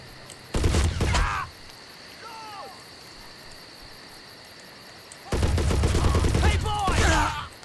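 Machine gun fire in the World War II video game Men of War comes in two loud bursts, a short one early and a longer stretch near the end, separated by quiet ambient background.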